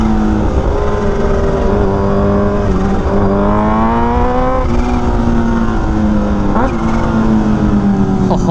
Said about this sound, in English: Oh, that's a nice Ferrari.